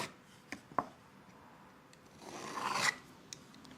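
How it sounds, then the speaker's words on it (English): Short rasping strokes of a tool trimming small excess bits off a homemade wooden push stick, a few quiet scrapes followed by a longer, louder rasp near the end, close up with no talking. "Come through and trim these little excess bits off just to clean it up a little bit."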